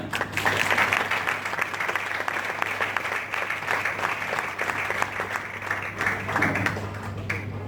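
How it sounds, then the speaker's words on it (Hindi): Loud, sustained applause from a crowd, steady clapping filling the whole stretch without pause. "जोरदार ताली"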